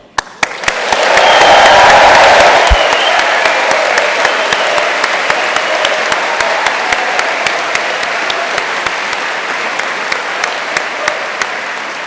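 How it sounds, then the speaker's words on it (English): A graduation ceremony audience bursts into sustained applause. Dense clapping stays near and loud throughout, with some cheering and whooping early on and sharp individual claps standing out above the crowd. "give us a bit of a trial, clap and cheer and whoop before we start"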